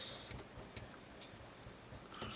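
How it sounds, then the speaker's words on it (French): Pencil lines on paper are erased with a rubber eraser in short, soft scratchy strokes, close and quiet, repeating in an uneven rhythm with no talk. "je vais gommer mes traits."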